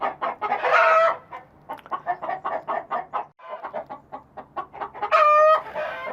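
Hens cluck continuously, wanting to lay eggs: rapid rhythmic clucking close by, punctuated by two louder drawn-out squawks near the start and end.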